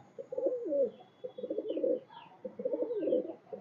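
Highflyer pigeons, among them a male Kaldam, coo in three soft rolling bursts close by, with faint higher chirps between them and no talk.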